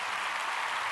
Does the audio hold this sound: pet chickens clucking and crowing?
no